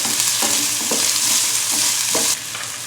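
Finely chopped raw potatoes sizzle steadily in a hot pan as a spoon stirs them, with several distinct scraping strokes over the frying hiss before it suddenly drops quieter.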